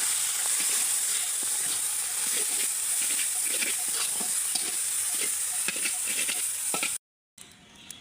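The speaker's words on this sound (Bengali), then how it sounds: "এই যে রসুন পেঁয়াজ কাঁচামরিচটা ভাজা হয়ে গেছে" Loud, continuous sizzling of garlic, onion and green chili frying in hot oil, with light scraping stirs throughout, cutting off abruptly near the end.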